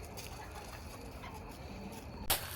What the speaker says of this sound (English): You all should be nice to your sister hens.